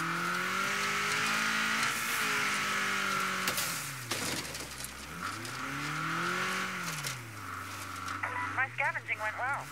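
A fast car in the State of Decay 2 video game drives with its engine droning and rising and falling in pitch, while someone talks over it throughout.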